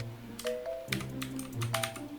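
Password typed on a computer keyboard: a short run of quick, close key clicks in uneven bursts over a faint background hum, with no talk.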